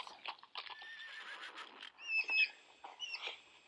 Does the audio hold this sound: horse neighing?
yes